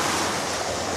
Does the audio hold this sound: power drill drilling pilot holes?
no